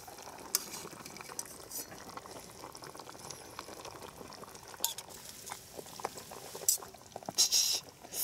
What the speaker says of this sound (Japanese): 若干吹きこぼれてますんで開けます